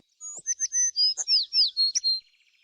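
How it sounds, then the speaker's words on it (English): A sparrow chirping nearby in a rapid run of bright, high tweets lasting about two seconds, clear and close with no other sounds. "It's a sparrow chirping nearby."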